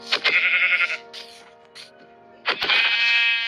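Two Minecraft sheep bleats, loud and close, the first running about a second and the second starting near the end of the clip, with a quiet gap between them and no talk.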